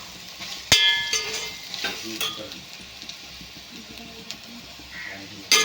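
Soya chunks (meal maker) fry in oil in a pan, a close, quiet steady sizzle broken by sharp clinks and scrapes of stirring.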